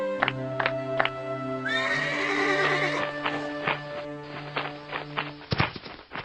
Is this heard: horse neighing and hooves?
yes